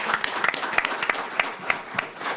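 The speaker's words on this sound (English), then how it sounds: "to give Jessie a round of applause." An audience at a university talk gives a brief round of applause, scattered individual claps close and distinct rather than a dense roar, irregular and fading within a couple of seconds.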